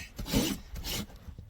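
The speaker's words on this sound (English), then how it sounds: "like a locomotive when I'm rasping" Close, coarse rasping strokes of a farrier's rasp on a massive draft horse hoof, beveling the cracked wall edge, heard as two or three rhythmic scraping passes with short gaps between them.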